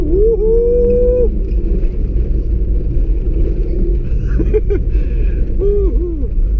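A 1992 Citroen ZX 1.4i pulls away in first gear, its low engine rumble steady underneath. Excited whooping voices rise and fall over the engine several times.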